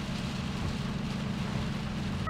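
Heavy rain drums on a car while driving, a dense, steady roar of drops with low road rumble underneath, continuous and loud throughout.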